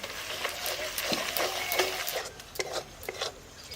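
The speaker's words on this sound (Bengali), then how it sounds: "আদা রসুনটা ভালো করে কষে নেব।" A ginger, garlic and spice paste fries in a pan while being stirred, soft scraping strokes repeating irregularly over a low, steady sizzle at moderate volume.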